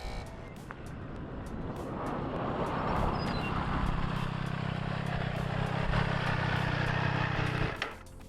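Motorcycle at full throttle on a track lap, a middleweight naked sport bike such as a Triumph Street Triple 765 RS or KTM 890 Duke R, its loud engine roaring steadily for several seconds with rough gear changes, bouncing off the rev limiter before cutting off.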